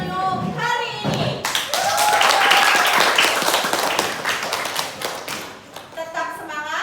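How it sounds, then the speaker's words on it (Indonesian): Applause from participants on a Zoom call: several people clap together in a steady patter for a few seconds, with children's voices and an adult talking before and after. "Kita aplaus dulu hari ini."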